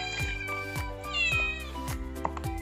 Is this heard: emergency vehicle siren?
no